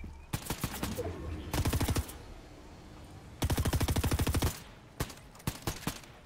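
Fortnite gunfire rattles out in several loud, rapid bursts and short strings of single shots, separated by brief quiet gaps.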